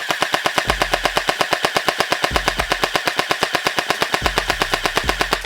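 An AnsToy AKM47 gel blaster fires on full auto at about 8.4 rounds per second, a fast even string of sharp clacking shots, loud and close, with short low mechanical whirs between bursts.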